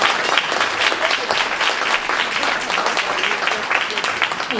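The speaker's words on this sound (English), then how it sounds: "Give her a big round of applause." Loud, sustained applause from a luncheon crowd at an anniversary event, many hands clapping densely and evenly for the whole stretch, close and full with no break.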